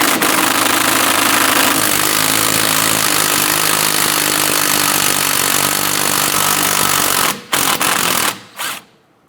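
A 13mm socket on a power tool spins out the bottom sway bar link bolt on a 2006-2013 Chevy Impala, a loud, steady whirring drone that runs for about seven seconds before cutting off in a few short bursts.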